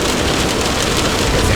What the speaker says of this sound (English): I hope it stops raining